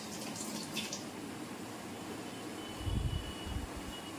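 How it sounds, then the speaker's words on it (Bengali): An Aquaguard water purifier runs in a home kitchen, a steady low hiss of flowing water with a brief louder gush near the end, no voices. "অ্যাকোয়াগার্ডটা চালিয়ে দিলাম"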